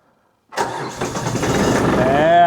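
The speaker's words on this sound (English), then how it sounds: "First order of business is to get this tractor fired up." A cold diesel tractor engine cranks over after its glow plugs have heated, catches quickly, and settles into a loud, steady, rattling idle close by.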